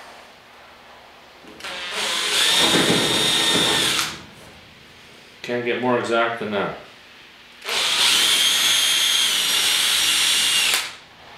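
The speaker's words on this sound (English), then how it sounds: "take and just run my drill through there." A power drill whines loudly in two long bursts, grinding through the metal of a 1967 Chevy car hood up close, with a person speaking briefly between them.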